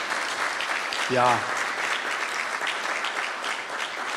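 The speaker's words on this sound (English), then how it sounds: "let's give them a clap." Delegates at a Kenyan Sacco annual delegates meeting clap steadily in a large hall, a short spoken word cutting in briefly as the applause continues.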